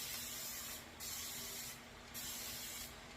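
A spray bottle mists water onto hair before braiding, three loud, close hissing bursts in a row, each spray lasting about a second, with no talk.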